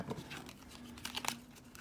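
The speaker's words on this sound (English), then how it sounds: "let's see if we can really shuffle these." A deck of playing cards being shuffled, giving a rapid run of papery riffling and crinkling with a brief louder flurry of card snaps near the end, close and fairly quiet.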